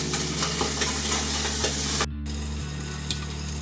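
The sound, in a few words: octopus frying in a covered pan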